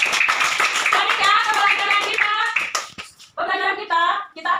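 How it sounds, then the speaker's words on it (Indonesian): An elementary class of children claps hands together in quick rhythmic bursts, sharp close taps layered with children's voices chanting along, pausing briefly before a second round. "Tepuk tangan untuk depan"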